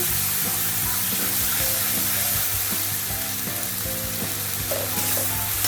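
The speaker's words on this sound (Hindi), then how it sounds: "ये डाल के अच्छे से भूनना है" Masala paste of ground fried spices with ginger paste sizzles and fries steadily in a pan, a loud continuous crackling hiss with soft stirring scrapes running throughout.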